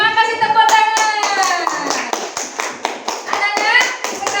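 Sharp, separate hand claps from a class of schoolchildren at the end of an Islamic religious education lesson, scattered and uneven. A voice sings or chants over them throughout.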